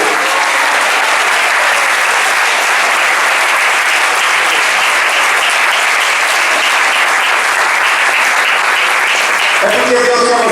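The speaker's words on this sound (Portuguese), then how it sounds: "Aplauda o Senhor, dá uma voz" Dense, sustained applause from a church ministerial meeting audience, loud and steady from start to finish, with a voice coming in faintly at the very end.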